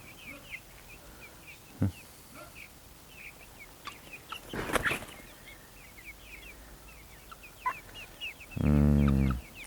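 Chickens clucking and chirping in a farm yard with a rooster nearby, busy quiet calls throughout, a sharp bang and a rustling burst midway, then a loud rooster crow at the end.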